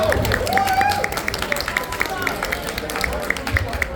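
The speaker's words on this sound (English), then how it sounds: "Can I get a round of applause for The Sims 4?" A convention audience at Texas Furry Fiesta 2025 applauds for The Sims 4 during a panel: steady crowd clapping with a lively hubbub throughout, mixed with voices talking and murmuring.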